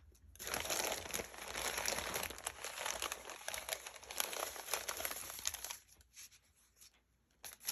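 Hands rummage through scraps of paper, including a sheet of typewriter paper, making close, continuous crinkling and rustling that thins into a few sparse crackles near the end.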